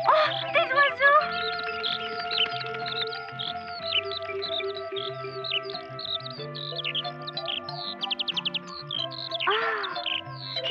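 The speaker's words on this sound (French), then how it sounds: "Oh, des oiseaux." Birds chirping in a forest during a picnic scene in the Heidi cartoon, bright twittering calls and trills over soft music, with a brief voice at the start.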